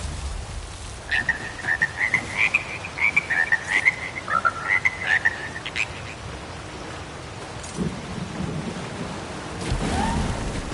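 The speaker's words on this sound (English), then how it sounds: "My beautiful frogs. They've come home. Such beautiful music." Frogs croak in a stretch of The Elder Scrolls Online gameplay, a run of rhythmic chirping croaks over rain-like ambient noise, fading as a low rumble rises at the end.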